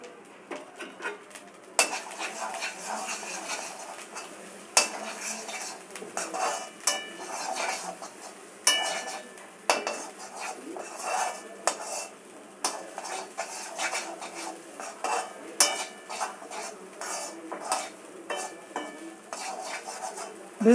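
Mixed vegetables stir-fried with a teaspoon of vegetable oil in a pan, heard as repeated scraping and clinking of a utensil against metal with a faint sizzle, steady and close throughout.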